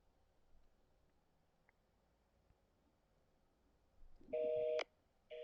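A telephone keypad sounds a short run of dialing tones near the end, clear and fairly close after several seconds of faint room noise, followed by the start of another tone.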